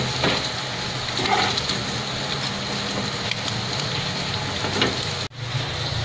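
Bacon sizzles in a pan while cooking for carbonara, a steady crackling hiss with a few scrapes and a brief knock near the end.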